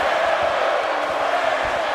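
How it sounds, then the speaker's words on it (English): A lively arena crowd at a wrestling match in the WWE 2K18 video game cheers as a steady, loud roar that fills the whole two seconds without a break. "Lively crowd here tonight."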